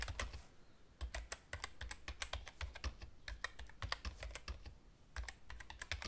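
Rapid keystrokes on a computer keyboard while an email address and registration code are entered, a steady close-up clatter of clicks in irregular bursts with brief pauses, no voices.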